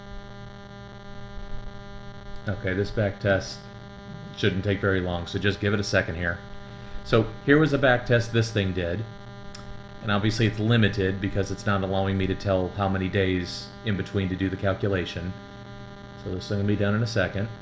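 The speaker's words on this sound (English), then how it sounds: "but like the fans turned on the computer and stuff" Cooling fans of an Intel i7 desktop PC give a steady, even hum that runs throughout beneath someone talking close to the microphone.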